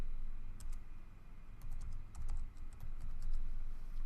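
Keys on a computer keyboard are typed in a few short clusters of clicks over a low background hum. The typing is near but fairly soft, and nobody speaks.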